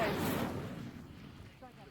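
An Incendio fire spell is cast in the video game Hogwarts Legacy, giving a loud whooshing, roaring burst of flame at the start that fades away over about two seconds, with a faint voice near the end.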